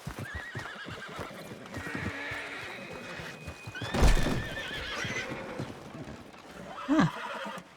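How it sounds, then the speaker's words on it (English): Horses in Red Dead Redemption 2 whinny loudly and shrilly, with hooves clip-clopping against a busy game backdrop of ambient noise and effects, and a second sharp neigh near the end. "There's a bunch of horses in here."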